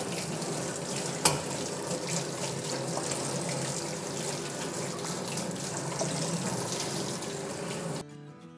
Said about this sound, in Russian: теперь все это хозяйство проточной водой промоем